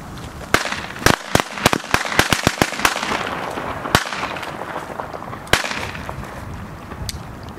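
A rapid string of sharp bangs from a ring of twenty-year-old firecrackers, clustered then scattered, loud and close against a noisy crackling background.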